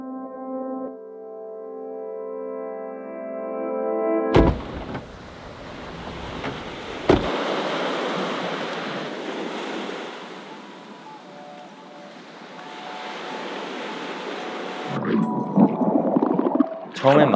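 Surf breaking at Cheonjin Beach, a steady broad wash of ocean waves swelling and fading for the whole stretch, with wind buffeting the microphone and no voices.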